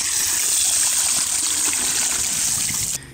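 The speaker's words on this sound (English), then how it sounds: "It has 2 jets on the bottom that will shoot water out to help loosen up dirt and debris." Water shoots steadily from the two bottom jets of an Aquabot Turbo T4RC robotic pool cleaner, a loud, continuous hissing gush that cuts off abruptly at the end.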